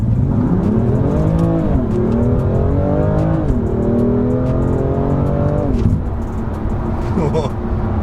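A tuned BMW M2 accelerates hard from 20 to 70 mph, its engine roaring up in pitch, dropping briefly at each of several quick gear shifts before climbing again, loud and close.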